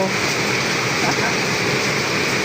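Heavy rain pours down in a constant loud rushing hiss, close and unbroken throughout.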